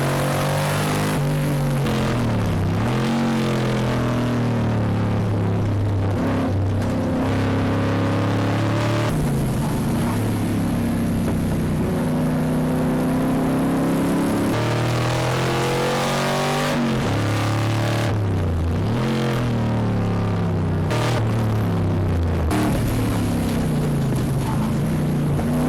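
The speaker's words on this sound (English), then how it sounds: "Jordan Edwards is now making a comeback, overtaking the 55 followed by the 38 and the 51 Cobra" Cobra race cars roar past during a four-hour endurance race at Dezzi Raceway, engines revving and swelling in pitch as they overtake, with loud overlapping passes and sharp Doppler sweeps throughout.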